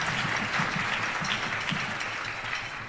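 A concert audience at a symphonic band and wind ensemble performance applauds an outgoing president. Full, sustained clapping fills the hall and fades slightly toward the end.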